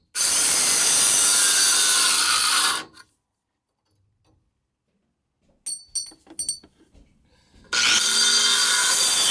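A hand saw cuts a piece out during boiler repair at a house, rasping loudly and continuously for a few seconds, then silence with a few faint knocks before the sawing resumes.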